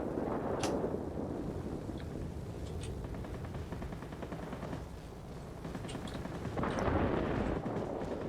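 Aircraft guns firing in the video game World of Warplanes, a rapid continuous rattle of automatic fire under a droning engine roar, with louder bursts near the start and end.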